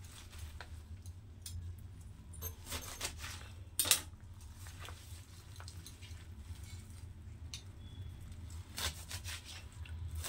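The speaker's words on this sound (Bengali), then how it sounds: "এখন শাকটাকে আমি ছোট ছোট করে কেটে নেব।" Jute leaves being chopped into small pieces with a knife in a home kitchen, giving faint, scattered cuts and scrapes over a low background hum, with one sharper knock near the middle.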